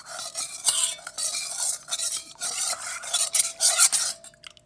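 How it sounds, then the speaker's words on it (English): Jello powder being stirred into boiling water, a continuous scraping and swishing of a utensil against the bowl in uneven strokes, close and fairly loud with no voices. "I'm going to keep stirring till that jello powder is completely dissolved."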